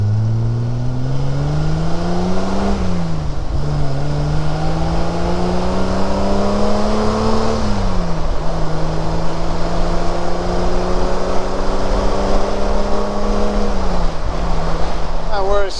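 A 1971 Triumph Vitesse Mark 2 accelerates hard along a straight road, its engine note climbing through the gears with audible drops at each shift, loud and close from inside the car.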